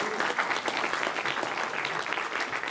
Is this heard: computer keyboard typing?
no